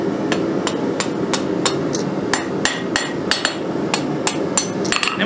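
Hammer forging hot steel on an anvil to shape a one-piece rose petal: a quick, irregular series of ringing metallic strikes, loud and close, with no talking.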